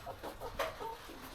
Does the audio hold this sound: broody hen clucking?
yes